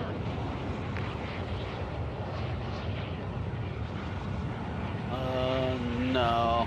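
A drop plane's engine drones steadily through a multiplayer shooter video game before the drop, a constant low hum with a brief tonal game cue near the end.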